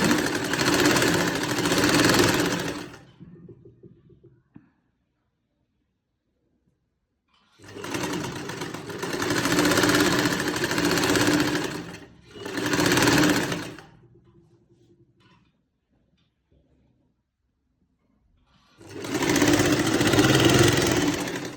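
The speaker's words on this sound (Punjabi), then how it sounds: "ਇਸ ਤਰ੍ਹਾਂ ਆਪਾਂ ਸਲਾਈ ਲਗਾ ਲਈ" Sewing machine stitching lace onto the folded edge of a dupatta, running in three loud bursts of motor whir separated by quiet pauses, each burst lasting a few seconds, with no talk.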